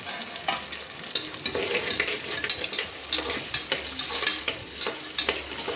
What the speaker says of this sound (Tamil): எண்ணெயிலே நல்லா வதக்குங்க